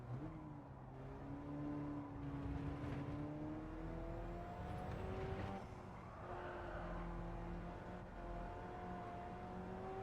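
Race car engine in Gran Turismo 7 driving an Alfa Romeo at Autodromo, a sustained engine drone with rising and falling pitch through gear changes, moderately faint and continuous, no talking.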